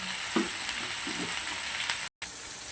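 Chilli chicken fries in a pan with a continuous close, bright sizzle and a few soft stirring knocks, then a brief cut to silence before the sizzle returns.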